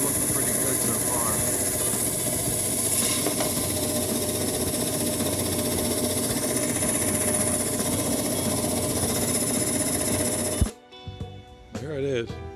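A slab saw cuts through a chrysocolla rock into slabs with a loud, continuous grinding drone. The drone holds steady for most of its length, then cuts off abruptly, leaving quieter scattered noises.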